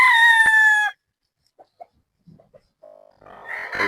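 A gamefowl bull stag rooster crows once, loud and close, cutting off abruptly. Quiet scattered clucks and small farm sounds follow, then rising background noise.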